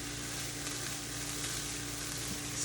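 Cauliflower rice with Mexicorn-style seasoning sizzles in a pan while being stirred, giving a steady, close hiss under a low background hum and no voices.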